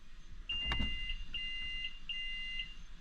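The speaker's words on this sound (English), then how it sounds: "all I get is a beep." A soft thump is followed by a series of thin electronic beeps from a Honda Odyssey door button repeating at a steady pace, faint against quiet background noise.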